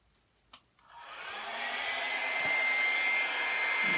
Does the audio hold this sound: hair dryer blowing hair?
yes